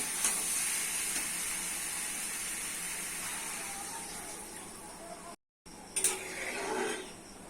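Water poured into a hot pan of sizzling ash gourd, potato and shrimp curry, giving a loud steady hiss and sizzle with a brief dropout and a few metallic clinks near the end.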